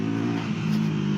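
A Triumph Tracker 400 motorcycle on a sandy dirt path gives a close, steady engine drone with a rising throttle tone, loud and continuous over a short stretch.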